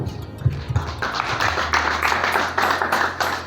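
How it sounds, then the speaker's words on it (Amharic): A church congregation claps together at a preacher's call, a cluster of hand claps building into a steady rhythmic clapping that continues for a few seconds, fairly close and clear, with no talking. "አጨብጭቡ"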